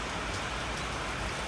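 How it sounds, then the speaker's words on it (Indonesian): Rain falls steadily outdoors beside a fishing pond, making a dense, even hiss of drops on surfaces that stays constant and close, with no voices. "Hujan."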